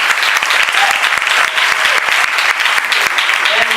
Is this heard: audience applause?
yes